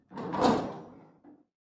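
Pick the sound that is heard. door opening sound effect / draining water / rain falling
door opening sound effect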